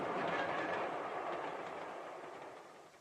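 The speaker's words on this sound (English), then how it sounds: "Here's my train. Sit down. It is going in the opposite direction, and it's not even going to stop here." Train passing on a railway as an audio drama effect, a loud broad rumble with faint clickety-clack that slowly fades over three seconds as it moves away, with no voices.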